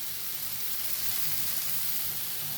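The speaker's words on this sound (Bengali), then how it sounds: "দেখো মশলাটা ভাজা হয়ে গেছে" Spices frying in a pan for a vegetarian curry of green banana, Chandramukhi potato and papaya, giving a steady, close hiss of sizzling oil that runs evenly throughout with no talk.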